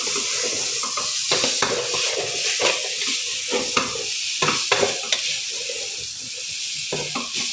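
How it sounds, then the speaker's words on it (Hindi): Chicken and tomato puree fry over a low flame in a pan, a steady loud sizzle throughout with frequent stirring scrapes and clacks of a spoon. "लो फ्लेम पे आप अच्छी तरह इनको भून लें।"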